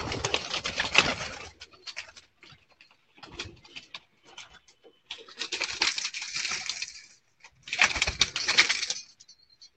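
Several Teddy pigeons coo in uneven bursts close by, with brief pauses between the groups of calls and faint rustling underneath.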